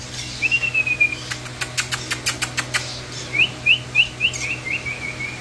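Many mynahs and parrots chirp in a bird shop, with a burst of sharp repeated calls and whistled tweets, then a run of quick rising chirps, all fairly close over a steady low hum.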